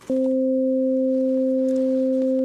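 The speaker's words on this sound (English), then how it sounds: "if we play a sine wave on the lowest and the highest C" Two pure, steady synthesizer sine tones sound together, on low and high C, starting abruptly and holding evenly without change.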